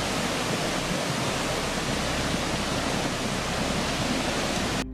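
Flash floodwater in Brazil rushes down a city road, a loud, steady, broadband roar of churning water with no voices, cutting off abruptly at the end.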